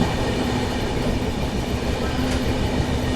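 The 12281 Bhubaneswar–New Delhi Duronto Express runs through Mirzapur railway station in Uttar Pradesh, heard from inside a 3rd AC coach as a loud, steady rumble of wheels on track with a faint squeal partway through.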